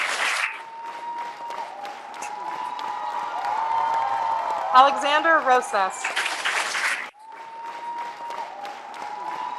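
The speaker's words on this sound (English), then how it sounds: "Please give one final round of applause for our 2021 graduates" Applause rolls for the 2021 graduates at a commencement ceremony, with sustained clapping from a crowd while names are read aloud over a microphone. A few whoops rise near the middle, then the clapping drops away briefly and starts again.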